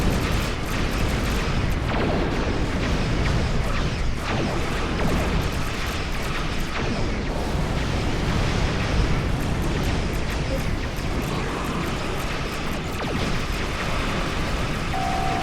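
Starship weapons fire and explosions during a space battle in Star Trek Online, with dense continuous booms, crashes and rumbling blasts at high volume and no letup.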